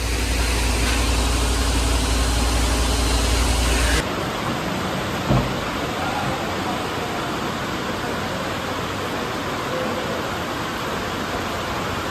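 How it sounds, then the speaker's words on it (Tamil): Heavy rain pours steadily at a truck loading place where potatoes are loaded. The downpour is a dense, even hiss, with an engine's low hum underneath for the first few seconds. "மழை பாருங்க லோடு ஏற்றுற இடத்துல நல்ல மழைங்க"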